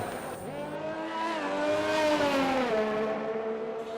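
A race car in a racing video game at the Brazil round runs on track, its engine screaming loud and close with rising and shifting harmonic whine through continuous acceleration.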